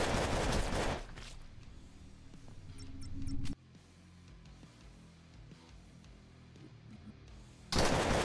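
Gunfire from the player's weapon in the sci-fi shooter Cosmic Call, with loud dense bursts of shots at the start and again at the very end, and quieter scattered game noise in between.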